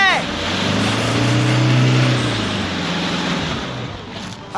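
A Toyota Fortuner 4x4 pushes through water, its engine droning steadily with sloshing and splashing throughout, close and fairly loud, while voices call out over it.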